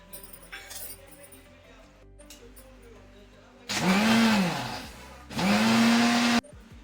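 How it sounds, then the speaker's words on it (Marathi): A kitchen mixer grinder whirs loudly in two short bursts, about two seconds each, as it blends curd, sugar and food colour for rose lassi, with quieter clinks and handling noise between bursts. "मी आता मिक्सरच्या भांड्यामध्ये फिरवून घेते."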